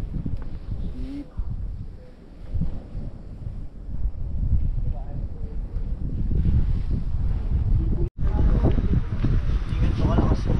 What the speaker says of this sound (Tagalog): Tingin ko malakas yung hangin.